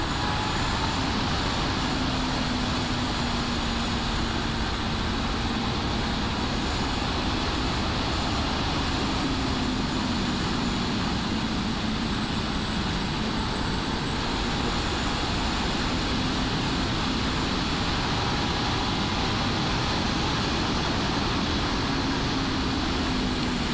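A Honda CB1000R 2024 Black Edition motorcycle being ridden, its engine a steady loud drone with rising and falling pitch sweeps under constant wind rush, close and continuous throughout.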